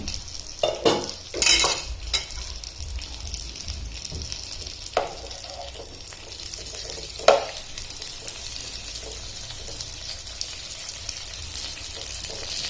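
Stuffed capsicums filled with farsan sizzle steadily in a frying pan, with a few sharp clunks and scrapes near the start as the peppers are turned over, then a continuous even crackle of hot oil.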